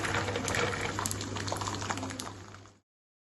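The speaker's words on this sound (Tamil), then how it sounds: "நம்ம உரிச்சு வச்சிருக்கிற பூண்டை வந்து இப்போ நம்ம அந்த எண்ணெயில நம்ம வந்து சேர்த்துக்கலாம்." Peeled garlic dropped into hot oil in a kadai for garlic pickle, setting off a dense, steady crackling sizzle that starts loud and close, fades a little and then stops abruptly.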